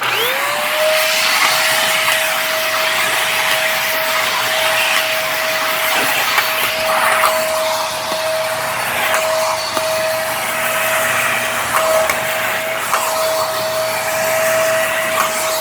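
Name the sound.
Aspiron corded stick vacuum cleaner running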